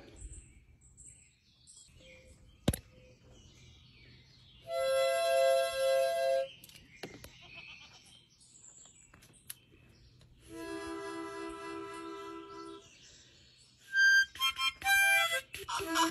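A donkey brays along with a harmonica. Two sustained harmonica chords ring out, separated by quiet gaps, and then come rough, uneven braying bursts near the end.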